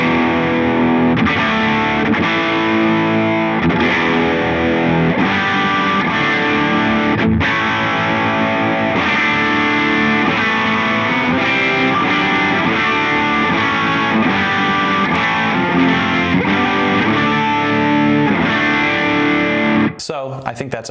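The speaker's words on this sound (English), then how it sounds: "I really like the sound of a TS-808 Ibanez overdrive pedal. I have a model dialed in here from Bias Effects" Electric guitar played through a modelled Ibanez TS-808 overdrive pedal in Bias Effects gives sustained, driven chords for about twenty seconds and then cuts off abruptly.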